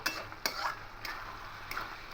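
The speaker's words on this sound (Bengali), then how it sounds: "এভাবে একটু ঘেটে ঘেটে দেবো আলুগুলোকে" Potatoes being stirred in a frying pan for a banana flower curry, a few quiet scraping clicks of a spoon against the pan over a faint low sizzle, no speech.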